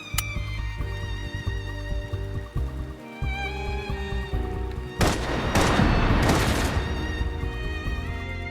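Bursts of gunfire in the Love and Deepspace video game, a loud dense volley of shots rising over a steady musical score and continuing for several seconds.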